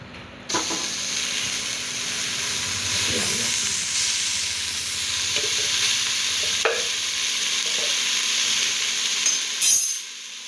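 Masala being stirred into a pot of frying food for kuska with chicken kurma, a steady sizzle and hiss running throughout with occasional scraping stirs, fairly close, ending in a short clatter.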